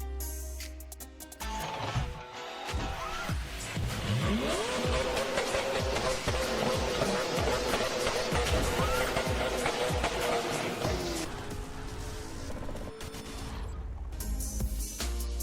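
Cars racing and smashing into each other in the mobile game Car Crash Racing, with engines revving and whining, tires squealing and repeated metallic impacts, all loud and close, fading out near the end.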